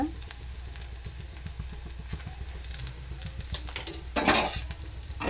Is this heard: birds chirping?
no